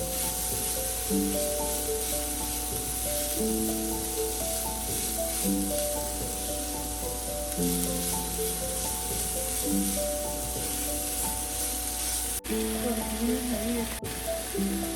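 A tempering of onion, garlic and ginger fries in a pan for Punjabi arbi curry, giving a steady low sizzle with occasional stirring beneath background music, with no voice heard.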